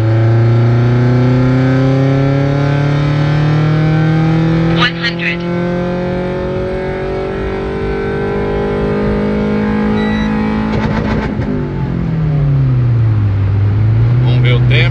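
A Renault Sandero RS hatchback accelerates hard from 80 to 140 km/h. The engine note climbs loud and close, drops briefly at each upshift, then rises again.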